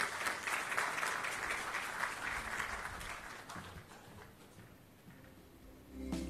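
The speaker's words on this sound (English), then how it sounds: "Please give L&T a big round of applause." An awards ceremony audience applauds a winning company, dense clapping that starts full and gradually thins and fades toward the end.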